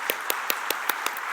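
A church congregation at a Wednesday prayer service claps in an even, steady rhythm, about five claps a second, filling a reverberant hall.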